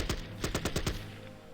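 A Bren carrier's machine gun fires in the World War II strategy game Battle Academy, a rapid burst of about six sharp shots in quick succession, then a fading tail.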